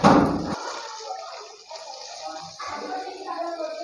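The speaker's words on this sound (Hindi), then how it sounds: "अब हम इसमें पानी शामिल करेंगे" Water is poured onto ginger garlic paste browning in a pan, a loud hot splash and sizzle that cuts off quickly, then settles into a quieter simmering bubble and crackle.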